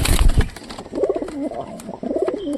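Pigeons in a loft coo in soft, throaty rolling calls, close by, after a brief burst of rustling or wing movement at the start.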